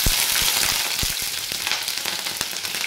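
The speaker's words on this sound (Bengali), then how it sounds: "এবার আমি সবজিগুলো ভেজে নেব। প্রথমে আমি এই বিনস দিয়ে দিচ্ছি" Green beans hiss and sizzle as they fry in hot oil in a wok, with a steady broadband crackle and occasional sharp pops, close and fairly loud, no voices.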